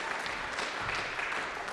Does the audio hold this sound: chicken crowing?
no